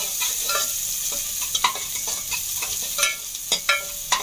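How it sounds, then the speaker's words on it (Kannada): Curry leaves and chopped onion fry for ladyfinger sambar, a steady sizzle in the pan broken by repeated close, sharp spatula scrapes and taps, coming irregularly and growing more frequent toward the end. "ಇವಾಗ ಕರಿಬೇವು ಮತ್ತು ಚಿಕ್ಕದಾಗಿ ಈರುಳ್ಳಿ ಕಟ್ ಮಾಡಿ ಇಟ್ಕೊಂಡಿದ್ದೆ, ಅದನ್ನು ಸೇರಿಸ್ಕೊಳ್ತೀನಿ. ಇದನ್ನು 1 ನಿಮಿಷ ಫ್ರೈ ಮಾಡ್ಕೊಳ್ಳೋಣ."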